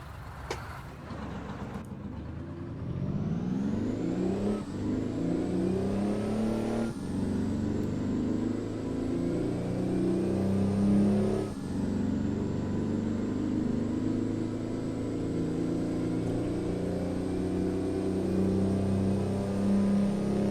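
Peterbilt 389 truck engine in American Truck Simulator, a deep steady diesel drone that revs up through several low gears, each shift marked by a brief dip before the rumble climbs again, continuous and fairly close.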